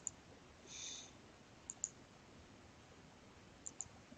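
Faint mouse clicks while saving settings in a Shopify discount app, a single click followed by a quick pair and another pair later, soft over a quiet room hiss.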